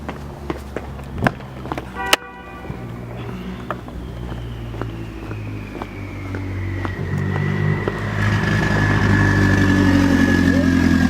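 A Nissan S13 car engine approaches from afar, its pitch slowly shifting as the sound grows louder and closer, with scattered clicks and footsteps earlier on.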